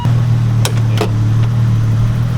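A BMW E30 fitted with a short shifter runs with a loud, steady low engine drone, and a few brief clunks from the cabin come through at close range.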